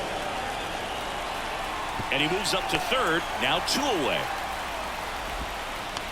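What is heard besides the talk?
rain falling on baseball stadium in MLB The Show 24 video game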